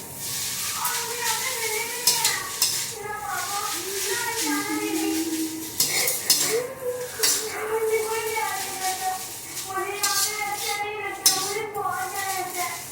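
Noodles with turmeric stirred in a pan, with repeated metallic scrapes and clinks of a utensil against cookware and a faint sizzle, heard under someone talking throughout.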